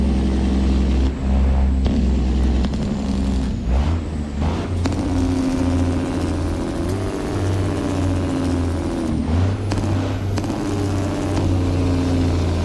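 A semi truck engine with a stage 2 tune runs loud and close, a deep steady drone rising and falling through the rev range, with a brief dip and pitch sweep near the middle and a hiss-like burst near the end.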